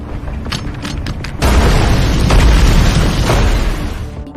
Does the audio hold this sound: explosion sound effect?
yes